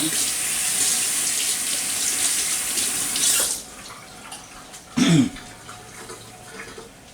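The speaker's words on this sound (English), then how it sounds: "I'm just going to rinse my hands off here." Running water from a kitchen tap splashes loudly as hands are rinsed under it, a steady broadband rush that stops abruptly halfway, followed by a brief clatter and quiet room tone.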